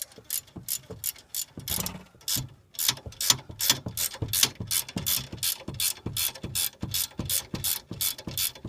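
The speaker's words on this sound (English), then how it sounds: "When you're tightening this down, you want to go back and forth." Ratchet wrench tightening the bolts on leaf spring helpers, a close, crisp rapid series of clicks in steady back-and-forth bursts with brief pauses, loud and continuous throughout with no talking.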